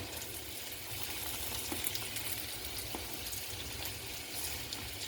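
Bacon and ground beef sizzle steadily in a pan alongside green beans, a soft continuous crackle with faint pops and a gentle bubbling undertone, heard without talk.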